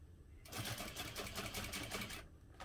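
A sewing machine stitches a seam on a holiday stocking cuff, a close, rapid mechanical whir with fast needle clatter that starts suddenly, runs steadily for about two seconds and stops.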